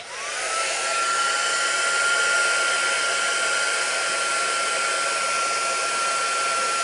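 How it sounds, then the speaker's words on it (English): A heat embossing tool used for stamping crafts whirs up and holds a loud, steady blowing roar with a faint rising whine at the start, close to the microphone and alone. "Get my heat tool really hot."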